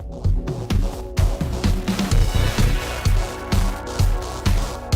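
JMG Sound's Transmutator plugin crossfades two audio inputs, bringing in the noise of the second first and then its tone, which produces dense, loud, rhythmic music-like material with regular percussive hits and no talking.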